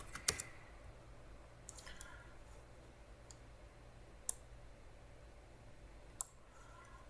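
Computer mouse clicks while drafting in SOLIDWORKS, a few sharp isolated taps spread across a steady background hum, close and quiet, with no talk.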